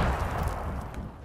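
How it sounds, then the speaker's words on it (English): Grenade explosions in Fortnite roar in a loud, dense, continuous rumbling burst, close and overwhelming, with the blast noise dominating throughout and fading only slightly at the end. "Stop spamming grenades."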